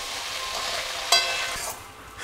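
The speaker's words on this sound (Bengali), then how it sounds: "সব সবজি, মাংস, ডিম, চিংড়ি মাছ একটু কিছুক্ষণ নাড়াচাড়া করে নেব হালকা করে" Vegetables, meat, egg and prawns stir-fried together in a hot pan for mixed fried rice give a steady close sizzle, with one brief sharper clatter of stirring midway before the hiss fades.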